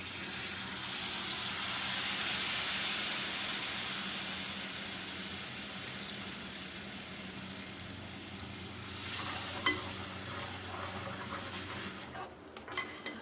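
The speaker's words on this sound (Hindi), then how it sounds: "ये इमली का पानी है, जो अब हम इसके अंदर डाल देंगे।" Tamarind water hits a hot pan of spiced potatoes for Kathiawadi khatte aloo, sending up a loud, steady sizzle and hiss that slowly fades, with occasional stirring clinks near the end.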